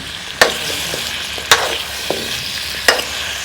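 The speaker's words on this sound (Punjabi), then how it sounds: "ਫਿਰ ਲਸਣ ਪਾ ਲਾਂਗੇ ਇਹ ਸਾਰੀਆਂ ਚੀਜ਼ਾਂ ਨੂੰ ਆਪਾਂ ਚੰਗੀ ਤਰ੍ਹਾਂ ਹੁਣ ਰੋਸਟ ਕਰ ਲਾਂਗੇ" Garlic, tomato and spices roast in a hot pan for shahi paneer, a low steady sizzle broken by three sharp scraping stirs of a spoon against the metal, spaced about a second apart.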